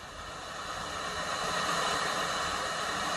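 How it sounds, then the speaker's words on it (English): A Yamaha PSR-48 keyboard's 'wave' voice gives a steady hiss of static-like noise that swells a little and holds at an even level for about three seconds, with no talking. "Basically static noise."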